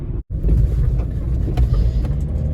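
Car driving along a road, a steady loud low rumble of engine and road noise with wind buffeting, briefly cutting out near the start, no talk.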